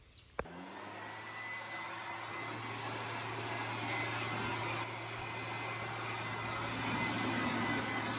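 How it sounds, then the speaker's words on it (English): Compressed air blasting through the engine bay of a Honda Accord that sat unused for eight months, a steady loud rushing hiss with a low hum underneath, starting abruptly after a sharp click and holding constant to the end. "now you're gonna watch me blow out the engine bay"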